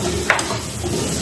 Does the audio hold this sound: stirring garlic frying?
yes